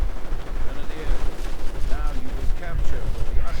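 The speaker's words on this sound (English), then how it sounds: "grenade going off on the Panzergrenadiers" Grenade blast and crackling gunfire from a Men of War World War II strategy battle, striking a squad of German Panzergrenadiers; a steady, dense din of shots and bursts under a commentator's voice.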